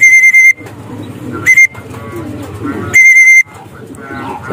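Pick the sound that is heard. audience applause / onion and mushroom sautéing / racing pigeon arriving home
racing pigeon arriving home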